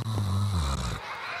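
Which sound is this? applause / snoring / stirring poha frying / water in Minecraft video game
snoring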